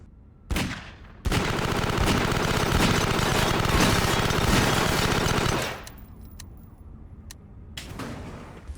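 Video game gunfire sounds as a loud, sustained burst of rapid shots lasting several seconds, followed by quieter clatter.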